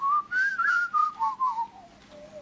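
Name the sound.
person whistling an imitation of a currawong bird call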